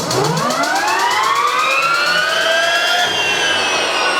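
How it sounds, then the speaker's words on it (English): Jet-engine motorcycle powered by an Allison C-18 helicopter turbine spooling up on start, a loud rising turbine whine that climbs steadily in pitch and holds close by. "So you get the jet engine noise."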